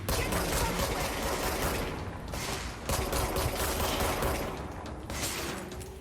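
Sustained bursts of rapid gunfire fill a shootout in the video game Control, dense and loud throughout with brief dips between volleys.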